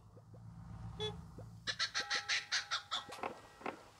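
A cartoon chicken squawks in the Crossy Road video game, giving a rapid run of about eight sharp clucks over game music and clicks.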